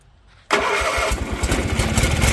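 Kohler KT17 engine on a Bolens 1700H garden tractor catches and fires up abruptly with choke applied, settling into a loud, steady, slightly uneven running roar close by.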